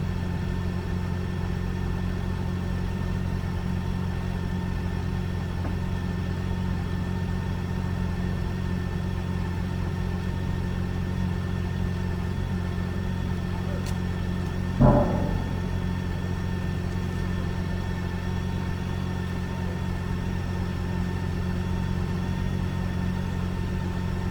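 A six-cylinder 1649 cc motorcycle engine runs with a steady, even drone for the whole stretch, heard close and loud, broken only by one brief knock near the middle.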